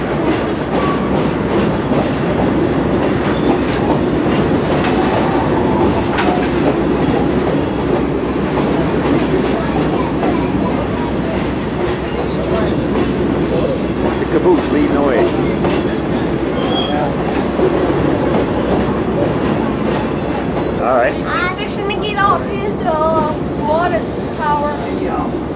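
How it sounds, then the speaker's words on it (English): A passenger train running out of Leadville, Colorado, in the Arkansas River Valley rumbles loudly and steadily as heard from aboard, with rhythmic wheel clatter and occasional metallic squeals. Voices talk now and then over the constant ride noise. "View from the train from Leadville."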